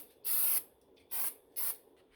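Brake cleaner hisses onto the rear rotor of a Mercedes-Benz GLK in three close, sharp spray bursts: one longer blast, then two shorter ones, separated by brief pauses.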